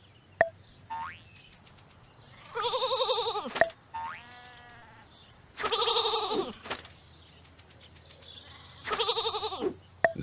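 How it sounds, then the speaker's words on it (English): Sheep bleat in Bethlehem: three loud, drawn-out wavering bleats a few seconds apart, close by, with fainter calls between them over a quiet low hum. "That's Bethlehem, home of David and lots of sheep."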